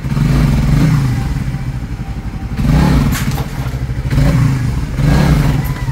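A Suzuki Raider 150 Fi motorcycle engine revved after crankshaft and oil seal repair work, with loud, close throttle blips that surge and drop back to a chugging idle several times in a row.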